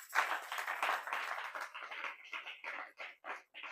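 A church congregation applauds in praise during a French-language service, with dense, lively clapping from many hands that thins into scattered claps and trails off, close and fairly loud.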